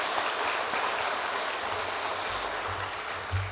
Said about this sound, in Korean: 우리 모든 분들 너무 애썼는데 우리 박수로 격려 한번 하십시다